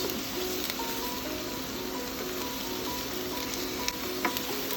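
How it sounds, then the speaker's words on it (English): Onions and shallot cooking gently in a pan on low heat for chicken parmigiana give off a soft, even sizzle throughout, close and unbroken, with a couple of faint clicks near the end. "the onions have been cooking for about 3 to 4 minutes, nice and low. I'm gonna add my shallot"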